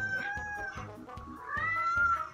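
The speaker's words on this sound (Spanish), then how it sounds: "Mira, Toby, un gatito" A kitten meows repeatedly from a played cat video, high thin cries in a steady series, fairly clear with little else around.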